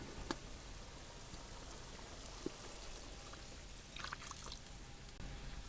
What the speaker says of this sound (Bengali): একটু পানি দিয়ে দিমু